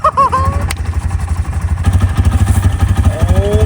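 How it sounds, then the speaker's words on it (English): A cheap sport motorcycle bought from Walmart idles while warming up. Its engine chugs loudly with a fast, uneven pulsing rhythm close by, and a few brief clanks break in near the start. "I shouldn't rev it up. I'll let it warm up."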